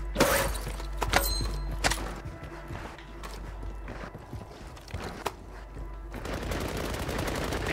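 Gunfire in Call of Duty: Warzone, with several sharp, loud shots in short bursts near the start, then scattered quieter pops over steady game background noise.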